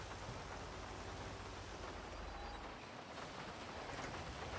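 Rain falls in GTA 5 Online as a faint, steady broadband hiss of downpour with a soft low rumble, continuous throughout and with no voices.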